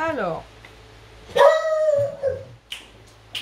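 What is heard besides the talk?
dog barking in the house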